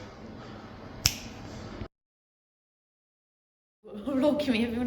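A single sharp finger snap or clap rings out over ongoing room noise and talk inside a hall where a sound system is about to be set up, followed by sudden silence and then music-like sound.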